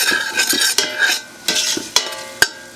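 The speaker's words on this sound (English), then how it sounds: "Got some bacon and some onions frying up in here" Bacon and onions frying in a pot while a utensil stirs and scrapes, giving close, irregular clanks and scrapes over a soft sizzle, with no talking.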